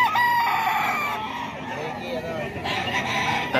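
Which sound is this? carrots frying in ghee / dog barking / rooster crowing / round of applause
rooster crowing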